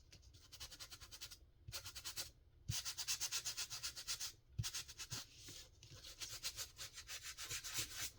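Small sheet of sandpaper scrubs wax off a craft journal in quick, close back-and-forth strokes, a soft raspy scratching with brief pauses between bursts.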